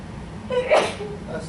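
A single short sneeze bursts out sharply, close and clear, against a quiet background.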